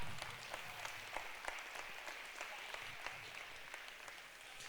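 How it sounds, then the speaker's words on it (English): Steady applause from a crowd at a Maryland high school state championship, dense clapping with a few sharper claps standing out, continuing evenly for several seconds. "a round of applause for them real quick"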